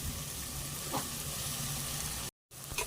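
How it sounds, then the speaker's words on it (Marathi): Onion and tomato sizzle steadily as they sauté in a pan for panchmel dal, a continuous close frying hiss with faint stirring scrapes, broken by a brief silent gap near the end. "छानपैकी परतवून घेते"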